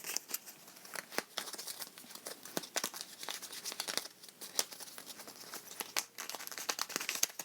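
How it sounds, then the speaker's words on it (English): A deck of cards from the Suspicion board game being shuffled by hand, giving a dense run of crisp riffling and flicking clicks that stays close and fairly quiet throughout, with no talking. "Now we've got to shuffle these all up."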